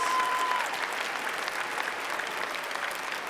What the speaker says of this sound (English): Let's give a round of applause to all of you who are parents.